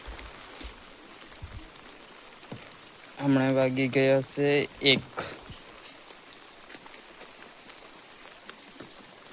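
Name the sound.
rain falling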